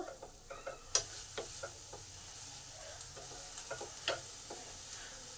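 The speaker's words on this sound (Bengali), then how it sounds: "এবার জলটাকে শুকনো করে নেব।" Soft sizzling simmers in a pan as red amaranth greens cook and their water dries off, while a spoon taps and scrapes at irregular intervals, quiet and close.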